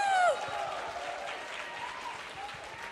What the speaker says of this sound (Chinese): 大家能不能再一次用热烈的掌声表达一下对大家喜爱和欢迎啊